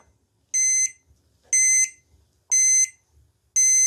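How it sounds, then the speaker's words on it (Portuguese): An XHDATA D808 radio's alarm gives four evenly spaced electronic beeps, each about a third of a second long and about a second apart, close and clear over near silence. "Você pode despertar com esse sonzinho do XH-Data para não perder a hora"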